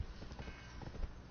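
Horse hooves clip-clop steadily in the online role-playing game Black Desert Online, a soft, muffled rhythm of footfalls under a dense, even background hum.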